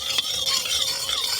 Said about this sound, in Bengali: প্রথমে অল্প একটু চিনি দেব